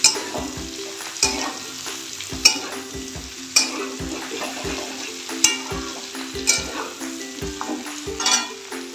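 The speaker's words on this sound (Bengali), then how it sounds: "সবজিগুলো অনেকটাই ভাজা হয়ে এসছে।" Winter vegetables fry in a pan with steady sizzling, punctuated by regular scraping stirs about once a second, close and fairly loud throughout with no voices.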